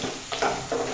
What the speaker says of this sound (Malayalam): വെളുത്തുള്ളി, വെളുത്തുള്ളി, ഇഞ്ചി, അതൊന്ന് വഴന്നിരുന്നു.